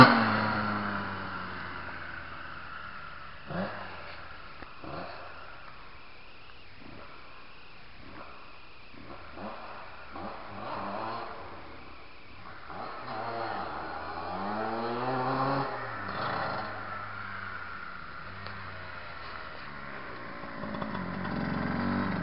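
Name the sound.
riding a Kawasaki motorcycle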